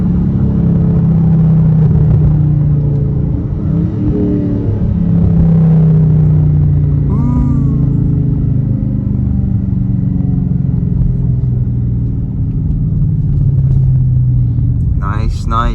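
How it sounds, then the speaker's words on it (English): A 2022 Dodge Charger R/T engine pulls hard in first gear, a loud, steady low rumble that builds as the car accelerates, close and continuous for the whole stretch, with brief chirps and knocks near the end. "First gear on the gas. Ooh, this thing can just take off"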